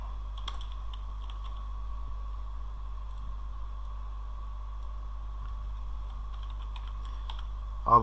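Soft, sparse keystrokes as code is typed on a computer keyboard, faint taps scattered over a steady low hum, with a slightly louder click at the very end.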